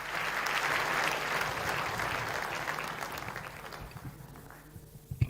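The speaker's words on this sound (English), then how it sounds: "Why don't you give him a warm round of applause as he comes." A crowd at a Diwali celebration at State House, Nairobi, gives warm applause for the Speaker of the National Assembly. The clapping starts loud and dense, then thins and fades toward the end.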